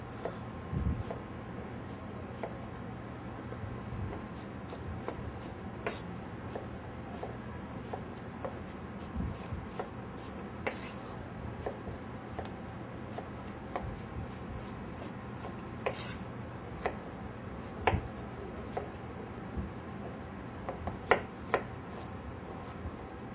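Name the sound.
knife roughly dicing quince on a cutting board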